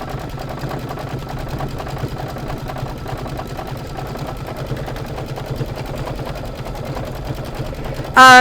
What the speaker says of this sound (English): So now it's going to do the decorative stitch around the this piece.